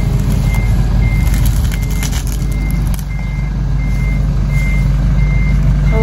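A road repair truck sounds loud, steady reversing beeps over a constant engine rumble on a street beside a vegetable garden, with no talking.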